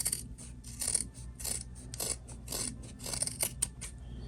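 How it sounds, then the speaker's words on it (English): Scissors trim sewn fabric near a fold to thin it out, making a quick series of close, soft snips and rasping cuts in an otherwise quiet room. "I'm going to trim a little bit right here too, so it's not too thick."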